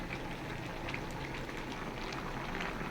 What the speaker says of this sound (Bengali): চাটাও ফুটে এসছে